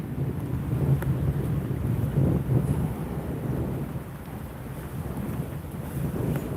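Strong wind gusts buffet the microphone beside a fishing lake, a steady low rumbling roar that swells and eases without a break.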